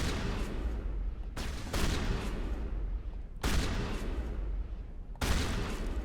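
Sustained gunfire in the video game Mass Effect comes in long bursts of dense, rapid shots separated by short gaps, loud and close throughout.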